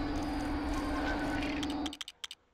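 Tractor beam effect in the Lego Star Wars video game: a loud, steady droning hum with a low buzzing tone that cuts off abruptly near the end, followed by a few brief clicky menu-like blips.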